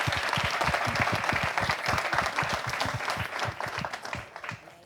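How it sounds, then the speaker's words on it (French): Rhythmic, fairly loud applause from an audience in a room honouring a winner at a live entertainment event, with many hands clapping in a slightly uneven beat that keeps going for about five seconds before easing off a little. "On applaudit encore pour le champion."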